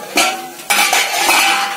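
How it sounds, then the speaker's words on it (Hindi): A metal spoon scraping and clinking against a cooking pan while mixing spices over a medium flame, a few close, bright strokes in quick succession. "अब सभी मसालों को अच्छी तरह से मिला लेंगे।"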